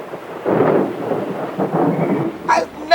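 A rumble of thunder rolls through steady rain in a rain forest storm, swelling in two broad waves and then giving way to a brief rustling burst near the end.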